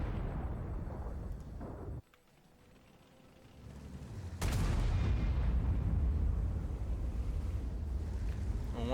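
Tank cannon fire in World of Tanks, heavy booming blasts with a sharp loud shot near the middle, then a sustained rumbling roar, with no speech.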